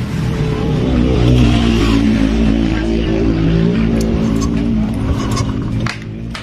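A 2019 Honda Beat scooter being cranked with its electric starter, with an engine running loud and steady throughout. Faint clicks and rattles sit on top of the running engine.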